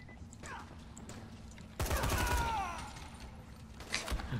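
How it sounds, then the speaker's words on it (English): Gunfire in the zombie video game Dying Light: a sudden short burst of shots and clatter midway through, rising out of a fairly quiet background and fading, with a small sharp hit near the end. "I just hear you shoot everyone."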